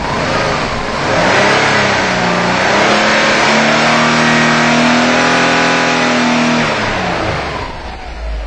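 A Subaru engine with a misfire and O2 sensor faults revs up, holds at higher RPM for several seconds with a steady droning tone, then eases back down, loud and close, with no talk.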